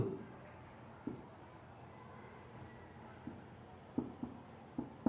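Chalk or a marker writes on a board in a classroom, making soft scratchy strokes and several sharp taps, close and quiet, over a faint room hum.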